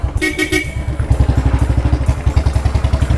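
Royal Enfield Bullet motorcycle engine running while riding, a loud, steady low thump pulsing in a fast even rhythm, with a brief horn-like tone near the start.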